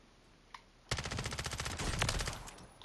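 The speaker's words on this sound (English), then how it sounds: "It does have a little bit of a kick initially when you're firing it off." Rapid automatic submachine gun fire on a video game gun range, a dense loud burst of repeated shots lasting about two seconds after a brief quiet start with one faint click.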